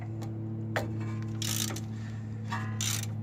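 A ratchet wrench cracks loose a shock absorber bolt on an Acura Integra, giving two short bursts of quick metallic clicking over a steady low mechanical hum, close by.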